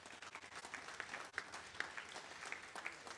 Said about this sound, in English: So I think a big round of applause for Hackney Corner and what he's been doing for the Hackney Boy